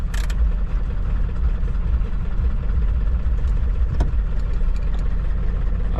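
A car engine runs with a misfire, a loud, close, rough low rumble that holds steady with faint irregular ticks over about six seconds, no talk.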